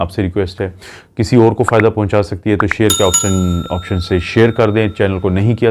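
A bright bell-like ding of a notification chime rings once and lingers briefly beneath a man's continuous, close speech.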